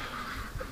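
Ducks kept in a backyard give a short burst of nasal quacking, fairly close, within a brief moment of outdoor ambience and with no one talking.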